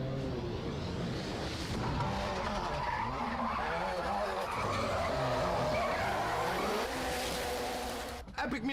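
Ken Block's Gymkhana rally car tearing through a tight space, with a sustained howl of sliding, squealing tyres and a revving engine that goes on for most of the clip before cutting off abruptly near the end.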